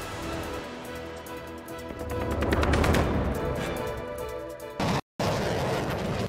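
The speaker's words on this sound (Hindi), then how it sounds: "उनकी तोपों की आवाज से पूरा इलाका गूंज उठा" Dense, continuous booming and crackling artillery cannon fire, heavy and rumbling, swelling in the middle with a brief dropout near the end, during a military fire drill.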